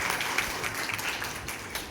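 Brief burst of applause from an assembled audience honouring a school principal at a student induction ceremony, a steady wash of many hands clapping close and loud throughout.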